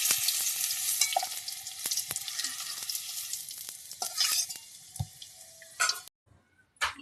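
Cauliflower pieces fry in hot oil in a pan, giving a steady crackling sizzle with scattered pops and stirring clicks, close and fairly loud, cut off abruptly near the end.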